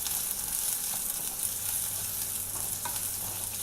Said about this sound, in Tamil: இந்த வெங்காயத்தை வந்து லைட்டாக வதக்கிடலாம்.